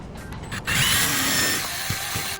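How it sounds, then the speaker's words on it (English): A power drill whines and bores a hole through a driveway gate above the latch, its motor pitch rising then settling into a steady grind, close up and loud. "So we're gonna drill our hole about right here, directly above that latch."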